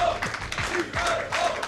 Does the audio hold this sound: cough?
no